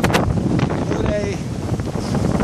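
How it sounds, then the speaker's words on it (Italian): Strong wind roars and buffets the microphone while riding a wind-powered bike outdoors on Tenerife, a loud, continuous gusty rush with faint voices underneath. "accelerare con il vento alle spalle, vento in poppa"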